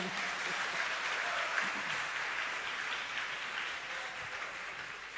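A church congregation breaks into sustained applause, a dense, even wash of clapping hands that holds steady and slowly tapers.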